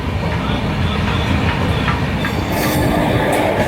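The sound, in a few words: Ahmedabad Gorakhpur Express train arriving at Ballarshah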